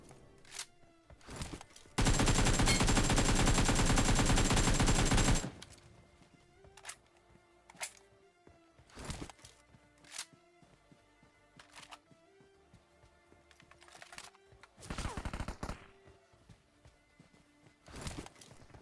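Gunfire in the battle royale video game PUBG/BGMI: a dense, loud burst of rapid automatic fire lasts several seconds, then scattered single shots and short bursts follow, some nearer and some distant.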